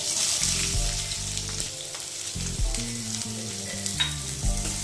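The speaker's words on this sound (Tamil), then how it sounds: "வெங்காயம் வந்து கொஞ்சம் வதங்கட்டும்" Onions sizzle steadily in hot oil, with a constant frying hiss and occasional stirring scrapes in the pan.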